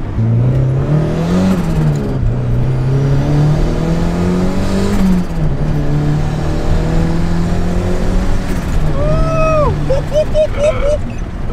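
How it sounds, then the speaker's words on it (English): A boosted Mazda Miata accelerates hard on its first test drive, the engine note climbing through several rising pulls before a shrill whine near the end, with excited voices in the car. "it actually moves now"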